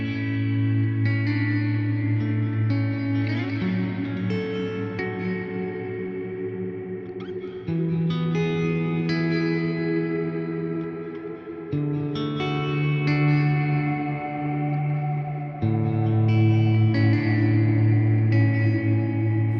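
Electric guitar chords played clean through a Line 6 HX Stomp Double Tank reverb, ringing out in a lush, swelling modulated wash, notes blooming and lingering into a shimmer, played alone with no voices.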